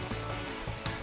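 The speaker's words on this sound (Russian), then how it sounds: "Пока у меня жарится" Food frying in a pan in a home kitchen, a steady soft sizzle and crackle running throughout at low level, with no talk over it.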